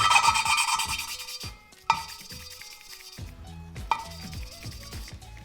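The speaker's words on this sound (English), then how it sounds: "At first we hear the grinding sound, and then it winds up quite quickly." A rhythmic gritty rasping of a valve being lapped with coarse grinding paste in a Lotus Europa cylinder head repeats in short strokes, with a couple of sharp taps, close and moderately loud.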